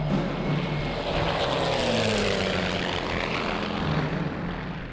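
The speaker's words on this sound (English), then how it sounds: "we do need you to continue with that low run over the top of them" A propeller-driven Messerschmitt fighter plane's engine roars loudly and continuously as it makes a low pass close overhead, its pitch sliding down as it goes by.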